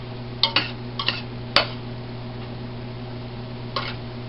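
Garlic and spices being stirred in a cooking pot for cowboy pinto beans: a few light metallic clinks and taps of a utensil against the pot, spaced irregularly over a steady low background hum.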